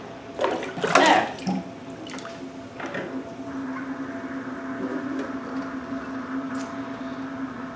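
Running water rinses fresh green beans being prepared for canning, with a brief splashy burst early on followed by a steady, close trickle and patter of water.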